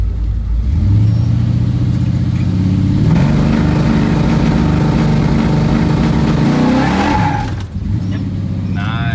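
Drag week street car with a 632 engine and 4L80E transmission, its engine loudly revving and holding against a 3,000 RPM two-step limiter, a steady harsh roar that rises and falls across the whole stretch.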